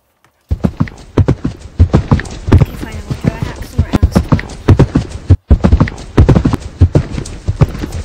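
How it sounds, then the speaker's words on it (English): Horses gallop on a hard surface, their hooves making loud, rapid, rhythmic clip-clops close by. Voices can be heard faintly in the background. "Our horses like to gallop on our on the spot."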